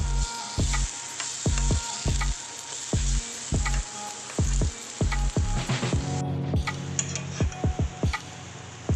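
Finely sliced banana fries in a pan with a constant sizzle, punctuated by regular sharp ticks and taps as it is stirred and turned over.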